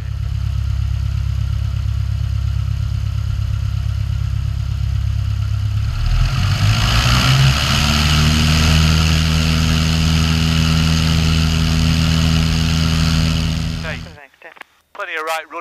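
A light aircraft's piston engine drones steadily at low power, then runs up to a louder, higher, sustained roar on the runway before takeoff at Welshpool, with radio-style voices over it, and cuts off abruptly near the end.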